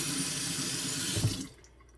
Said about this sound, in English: Here is the saddest kitchen faucet you'll ever see.